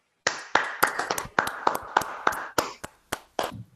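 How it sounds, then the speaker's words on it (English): A small audience at a hackathon demo day claps, with sparse, sharp individual claps spaced irregularly, sounding like only a few people clapping nearby. "please help me out to give a round of applause"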